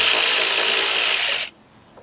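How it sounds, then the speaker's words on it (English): A ratchet spins rapidly and loudly to loosen a control arm ball joint nut on a Lexus LS460, a continuous close whirring clatter that stops abruptly near the end. "take your ratchet"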